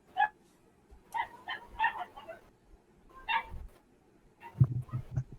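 A puppy barks in short yips and whimpers several times indoors, the calls coming in small bursts with brief pauses, followed by a few low thumps near the end.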